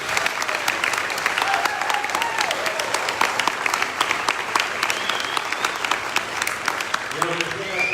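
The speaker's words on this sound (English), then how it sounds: "Let's give a round of applause for the committee." Sustained applause from an audience at a 50th class reunion gathering, honoring the reunion committee, dense and steady for several seconds before a voice starts speaking near the end.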